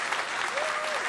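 Dense, continuous applause from a studio audience fills the moment, loud and even, with a brief whistle-like cheer over the clapping.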